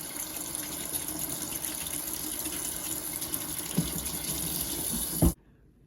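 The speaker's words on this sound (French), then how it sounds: "Donc ça, on le passe sous l'eau." A vacuum filter is rinsed under a running kitchen tap: a steady close gush of water splashing into a sink, ending abruptly when the flow is shut off.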